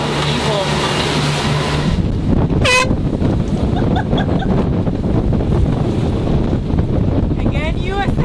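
Heavy wind of 20 knots or more roars across the microphone on a boat heading into waves, with rushing water and spray, a steady loud buffeting throughout, with brief horn-like tones cutting through.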